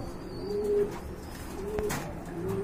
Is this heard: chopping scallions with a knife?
no